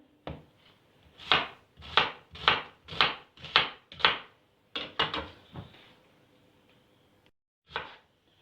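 A knife chops ingredients on a board for a three-ingredient homemade natural antibiotic cough remedy. About a dozen crisp, close strikes come in a quick, fairly even rhythm, then slow down, with a last isolated chop near the end.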